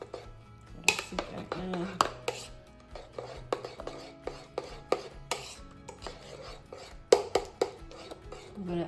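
Zucchini cranberry muffin batter is mixed in a bowl, irregular scraping and knocking of a utensil against the bowl in a loose rhythm, with a voice speaking briefly.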